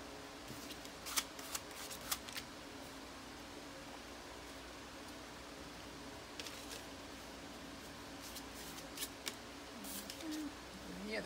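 Credit card scraping across paint on paper in an art journal, a soft close rasping with a few sharp taps and strokes over a quiet, hissy background.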